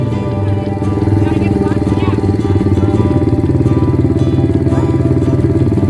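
A motorcycle engine roars at full throttle during a ranch hill climb competition at Thompson Ranch. The rough, rapid, pulsing drone stays loud and close throughout, with an announcer's voice faintly mixed in.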